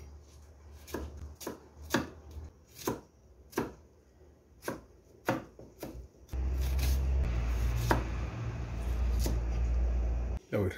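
A knife chops an onion on a cutting board in sharp, irregular strokes, close and distinct, before a steady louder rushing sound takes over.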